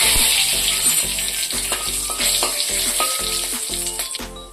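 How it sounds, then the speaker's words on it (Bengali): Whole cumin, two dried chillies and a bay leaf crackle and sizzle loudly in hot oil, a dense close hiss with rhythmic stirring taps throughout. "তেলটা গরম হয়ে গেছে, ওর মধ্যে গোটা জিরে দেব, 2 শুকনো লঙ্কা, একটা তেজপাতা"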